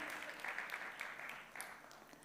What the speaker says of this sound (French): On peut les applaudir une nouvelle fois.